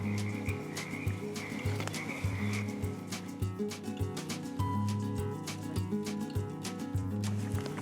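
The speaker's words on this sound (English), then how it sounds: "I don't know if you can hear them, but those are Pacific chorus frogs" A chorus of Pacific chorus frogs croaks in repeated pulsing calls at a wetland beside the Willamette River, steady and moderately close throughout, with no talk over it.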